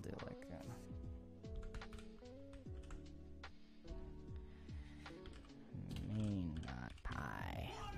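Fingers type on a computer keyboard in quick, uneven clicking bursts, partly under a voice and other tonal sounds.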